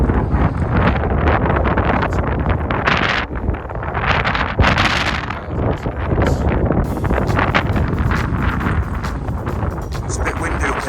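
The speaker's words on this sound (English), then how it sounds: "It's a bit windy up here." Strong, steady wind on the South Downs Way buffets the microphone throughout, a constant roaring rush with gusty swells, with faint talk underneath.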